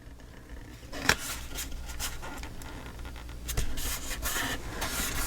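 Paper is burnished onto a scrapbook page with close, continuous scratchy rubbing and a couple of sharper scrapes, no talking.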